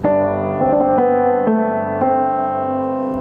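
A gentle piano melody of a handful of sustained notes from the chorus of a song moves slowly over a held low tone, played alone and clearly.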